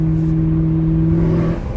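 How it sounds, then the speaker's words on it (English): Katech Stage 4 Corvette ZR1 running with its Corsa active exhaust in track mode, valves open: a loud, close, steady droning engine note that holds evenly and eases slightly at the end. "Right now we're in track exhaust mode."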